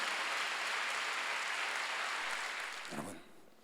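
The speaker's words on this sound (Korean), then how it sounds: "박수로 영광을 돌리시고" A church congregation at a Sunday worship service applauds, a soft, dense patter of clapping that holds steadily and then fades out near the end, fairly quiet overall.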